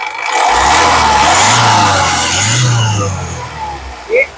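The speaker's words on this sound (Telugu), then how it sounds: "ఇంజిన్ యొక్క నాయిస్ చాలా సైలెంట్ గా అయితే ఉంది" A 2015 Honda City VX engine runs at a steady, fairly quiet hum close by, with a brief rise partway through, while a person talks over it.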